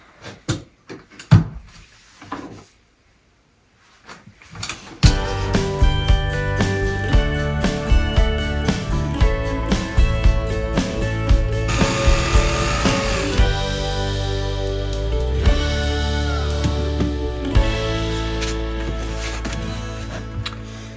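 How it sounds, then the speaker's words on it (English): A jigsaw cuts a circular drain hole through a shower floor pan, a few faint handling knocks first, then a sustained loud buzzing rasp of the blade that runs steadily, rising and shifting as the cut goes on. "All we're going to do now, grab a jigsaw, cut this thing out."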